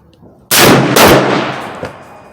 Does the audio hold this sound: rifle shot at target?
yes